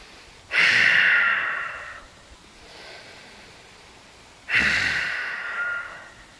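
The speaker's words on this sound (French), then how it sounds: "Ujjayi, une grosse respiration." Two deep, slow Ujjayi yoga breaths, each a long, close, hissing rush of air that fades out gradually, separated by a quieter breathy pause.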